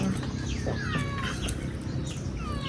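A cat meows repeatedly at a riverside breakfast spot while being offered fish, its rising and falling cries close and clear over a soft murmur of background activity.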